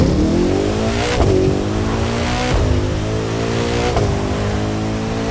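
Koenigsegg Jesko hypercar in The Crew 2 racing game, its engine revving hard and climbing through gears with sharp shift breaks, loud and close with no talk over it.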